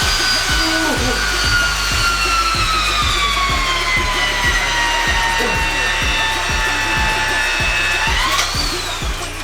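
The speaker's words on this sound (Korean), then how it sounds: "TS 볼트를 샤렌치로 돌려서 튼튼하게 고정을 시켜줍니다." Shear wrench tightening TS bolts on a steel H-beam on a building site runs with a loud whining motor and a fast regular hammering pulse, close and continuous, rising in pitch near the end.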